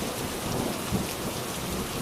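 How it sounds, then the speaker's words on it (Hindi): Heavy rain pours down steadily as a sound effect in a narrated Hindi village story, with a dense, continuous wash of drops and a faint rumble of thunder, loud and unbroken throughout. "बारिश शुरू हो गई।"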